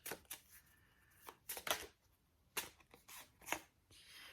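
Tarot cards shuffled in repeated short riffling bursts with brief pauses between, close and fairly quiet, with no talking.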